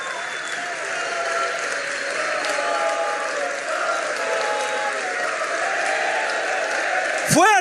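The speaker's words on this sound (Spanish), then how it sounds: "Un aplauso." A crowd at a political rally in Argentina applauds in a sustained, dense wash of clapping with cheering mixed in, loud and continuous throughout.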